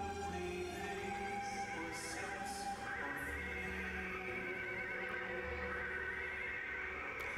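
A horse neighs and whinnies within the soundtrack of the Magic Journeys 3D film at Disney's EPCOT, set against a continuous bed of orchestral music with faint hoof clip-clops and no speech.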